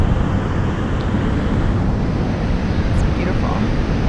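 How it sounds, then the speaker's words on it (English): Ocean waves crash onto a sunny San Diego beach in a steady, loud roar of surf, with wind buffeting the microphone throughout and no pauses. "the waves are really crashing in"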